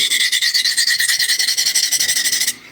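Kitchen knife drawn in quick, steady back-and-forth strokes across a Hindostan whetstone, about two dozen evenly spaced scraping rasps, close and loud, with no talking, ending abruptly.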